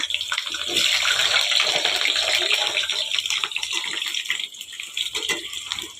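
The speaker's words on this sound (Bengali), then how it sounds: "আলুটা দিলাম তেলটা গরম হয়ে গেছে" Potatoes sizzle in hot oil in a home kitchen, a loud, steady, hissing fry that runs the whole time with no voices.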